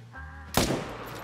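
A single loud rifle shot cracks out in the hunting game theHunter: Call of the Wild, aimed at moose from about 300 meters, with a sharp onset followed by a decaying rumble.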